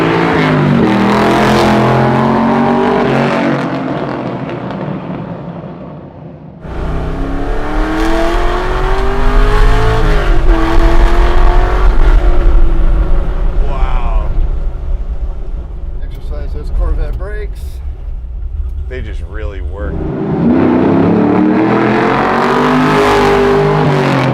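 A loud, deep 600hp Chevy C10 truck engine roars and revs repeatedly close by, exhaust rumbling and rising in pitch, with talking mixed in at times.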